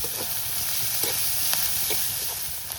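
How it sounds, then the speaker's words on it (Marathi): Garlic and onion fry in hot oil with a steady close sizzle, while a spoon stirs through the pan and scrapes it now and then. "लसूण अशी लाल झाली जरा की कांदा टाकायचा आहे. कांदा आपल्याला असा नरम करून घ्यायचा."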